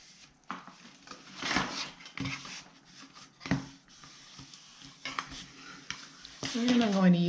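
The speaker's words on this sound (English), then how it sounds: "I'm going to use my big old spatula to get everything nice and stuck" A large spatula presses and smooths paper onto a handmade mini notebook cover in a series of close, scraping rubs, with a brief rising squeak near the end.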